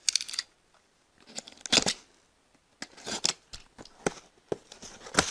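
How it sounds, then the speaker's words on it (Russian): A cardboard box holding a Chinese gel-ball toy pistol is opened with scattered crisp tearing, snipping and crinkling bursts separated by short quiet gaps, close and fairly loud. "Распакуем его."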